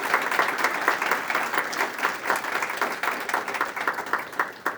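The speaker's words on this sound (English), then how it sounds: "provide a round of applause for Andy," Steady round of applause from a seated audience at a panel discussion, dense clapping filling the room for about five seconds with no speech over it.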